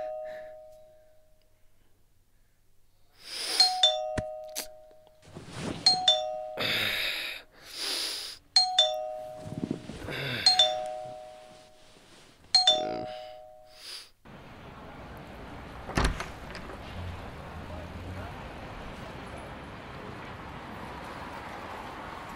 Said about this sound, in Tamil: சும்மா காலிங் பெல்லை போட்டு டாயின் டாயின் அழுத்தின்னு இருக்க